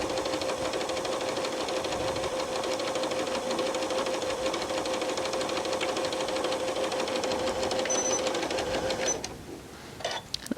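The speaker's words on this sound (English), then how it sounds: "drop the needle, and we can start sewing" A Janome Horizon 9400 sewing machine stitches soft flannel in a quarter-inch seam, a steady fast whirring drone close up that runs unbroken for about nine seconds before stopping.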